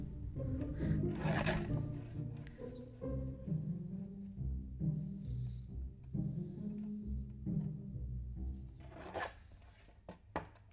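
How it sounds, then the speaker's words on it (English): Cardstock being trimmed for a light-up craft card, a steady rasping, rubbing scrape of a paper trimmer blade repeated in close, quiet strokes. "just trim a little bit off of these, off the 2 long ends so that we've got that decal edge"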